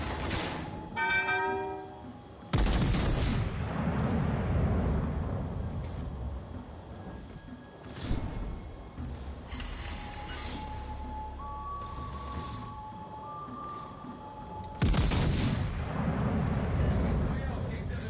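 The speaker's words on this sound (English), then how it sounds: "Feuer auf gegnerisches Kriegsschiff konzentrieren." Naval guns firing at an enemy warship in World of Warships Legends: several heavy booming salvos with long rumbling decay, separated by quieter game effects and short tones, with automated voice callouts in places.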